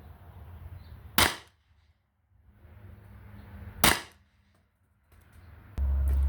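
Two sharp, loud CO2 pistol shots from a Beeman BP50 air pistol fired at a paper target, spaced a few seconds apart, each a crisp pop with quick decay over quiet background hiss.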